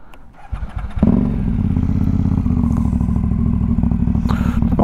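An Aprilia Dorsoduro motorcycle engine is started after a brief crank, then settles into a loud, close, steady rumbling idle with even pulsing beats and a light rev near the end.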